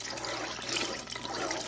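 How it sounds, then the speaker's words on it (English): Water goes into hot grease while a seafood gumbo roux is being started, giving a constant, dense hiss and sputter that runs the whole time at moderate level with no talk. "Add some water in there before it's popping."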